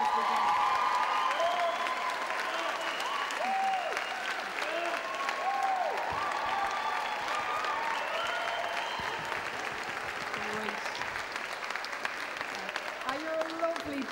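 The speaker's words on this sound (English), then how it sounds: "I want to give them a round of applause at the first night rather than the last night" Audience applause with cheering and whistles for the stage crew on the first night of a welcome meeting, loud and sustained throughout, with a few voices calling out over the clapping.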